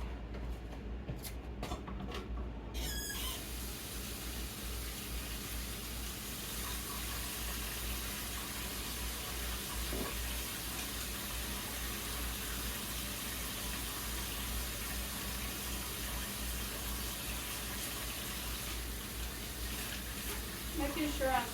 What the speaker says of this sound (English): Let me take this and wash my hands.